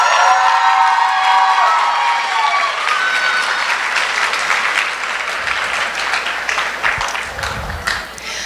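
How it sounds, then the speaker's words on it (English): Audience applause at a hall costume contest at a convention masquerade, a loud dense wall of clapping with scattered cheers and whoops that slowly thins out, a few voices audible toward the end. "How about one more round of applause for everybody?"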